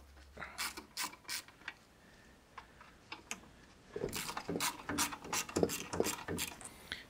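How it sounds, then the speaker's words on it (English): A wrench ratchets in short clicking bursts while loosening bolts on the manifold cover of a Citroën 2CV, close and fairly quiet, with metallic taps and a busier run of rapid clicks in the second half. "So you just loosen the bolts and you can pull the little cover off on the top of the assembly here."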